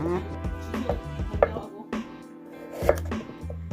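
A knife chops food on a cutting board in a kitchen, a series of sharp, close knocks in an uneven rhythm with short pauses between strokes, with no talking.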